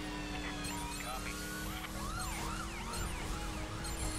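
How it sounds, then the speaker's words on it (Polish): A police siren wails continuously, rising and falling, as police chase the player's car in the video game The Crew Wild Run, layered over steady engine and road noise. "Ojej, goni mnie policja za rozwalanie siatek."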